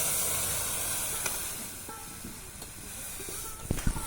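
Hot oil tempered with cumin seeds and dried red chilli poured into dal in a Bengali village kitchen, a soft, steady sizzle and hiss with a few sharper crackles near the end.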